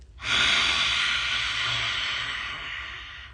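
A forceful breath pushed out through an open mouth in a fire-breathing dragon breathing exercise, one long loud rushing exhale that slowly fades, heard alone and close.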